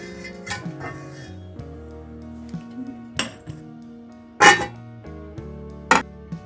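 A metal spoon clinks against a cooking pot as it is pulled out, then a lid clatters on with several sharp ringing knocks in a quiet kitchen.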